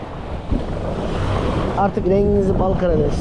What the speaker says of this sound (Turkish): bak rüzgar ve çırpıntı var